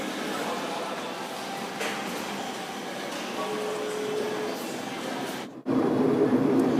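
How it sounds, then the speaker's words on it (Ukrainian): Steady rumbling hum of a driverless metro train in an underground station in Lyon, with a brief tonal whine and a sudden louder roar near the end. "Тому не лякайтеся, коли ви побачите, що Метро приїхало саме без водія."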